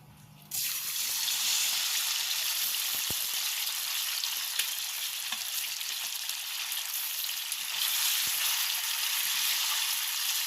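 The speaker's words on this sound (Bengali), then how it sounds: "এবারে পনিরগুলো ভেজে নেব" Paneer pieces drop into hot oil in a kadai for restaurant-style palak paneer, a sudden loud sizzle that holds as a dense, even hiss for ten seconds, with small crackles and no talking.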